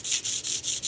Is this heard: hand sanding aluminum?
yes